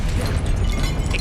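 A Confringo blast spell fires in Hogwarts Legacy during a spell-heavy duel, a dense roaring burst that fills the short moment loudly with no clear gap.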